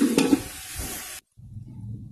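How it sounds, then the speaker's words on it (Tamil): Onions sautéing in oil in a large pot for chicken biryani, with a sizzle and scraping stirs up close, a sharp clank near the start, then a brief cut and a quieter sizzle resuming. "நல்லா வந்து டிரான்ஸ்பரண்ட் ஆகிற வரைக்கும் நல்லா வந்து வதக்கிடணும்"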